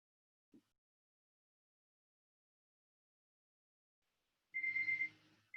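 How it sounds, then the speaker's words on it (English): An alarm goes off during a booty workout session: a short electronic beeping tone sounds for about a second after a long near-silent stretch, fairly faint. "And that's my alarm"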